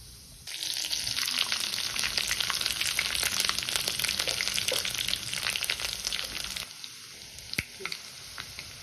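Fenugreek, mustard seeds, cumin and curry leaves tempering in hot oil for a dry fish and brinjal curry: a dense, crackling sizzle holds steady for about six seconds, then cuts off, with no talking.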